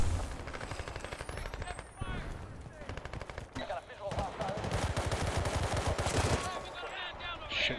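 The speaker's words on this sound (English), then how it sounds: "Shooting from the top of the house at Alpha, second floor." Rapid, sustained automatic gunfire in the video game Battlefield: Bad Company 2 during a tournament match, loud, dense and continuous, with brief gaps and overlapping shots from several weapons.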